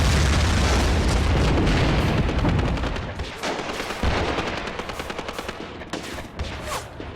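Mortar fire in the WWII tactics game Graviteam: Fateful Strike, a heavy opening boom rolling into a dense rattle of repeated rapid gunfire and thuds that thin out toward the end, loud and continuous with no talk.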